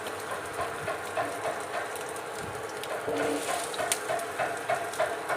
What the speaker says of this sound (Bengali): এইভাবে আমি বড়াগুলোকে